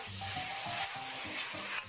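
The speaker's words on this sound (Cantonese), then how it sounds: "咁樣炒個薑葱牛肉啊，鑊氣夠" Ginger-and-scallion beef stir-fried in a wok over high heat: a constant sizzle with rhythmic scraping and tossing strokes roughly every half second.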